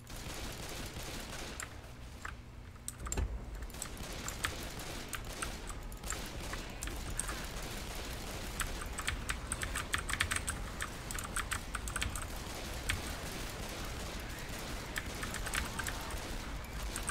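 Continuous clicky computer-keyboard typing runs throughout while playing Left 4 Dead 2, rapid and close, with dense rattling keystrokes and a few louder clacks.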